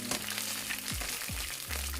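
Jamaican saltfish fritters sizzle and fry steadily in a pan, a close, continuous crackle with a few low thumps from the pan being handled, no voices.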